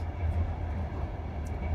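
A train carriage's interior rumble as it rolls along the rails, a steady low drone with no distinct clacks, heard close and alone.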